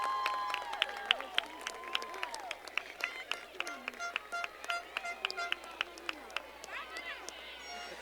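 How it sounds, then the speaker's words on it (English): Graduation audience at an LHS 2017 ceremony clapping and cheering after graduates' names are read, the applause moderate and steady with sharp individual claps and whistles mixed into crowd noise. "Let's give them both a round of applause."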